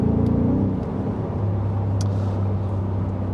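A 2024 Ford F-150 Raptor R engine drones while the truck cruises along, a low steady rumbling hum heard from inside the cab with a faint whir and no talking.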